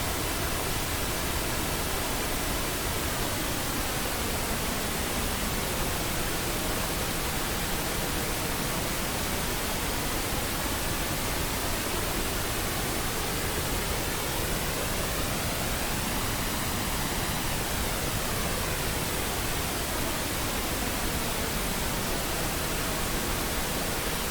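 Steady, loud broadband hiss with a slowly sweeping, hollow phasing character, mirrored comb filtering from the super separator trick in Bitwig, constant throughout.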